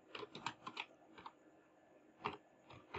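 Computer keyboard being typed on, with short bursts of soft, close key clicks, a pause, then a few more taps, quiet and without talking.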